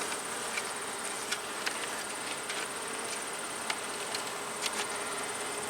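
Honey bees buzz steadily around an open hive in a beekeeping yard, a continuous soft drone with occasional louder passes of individual bees nearby.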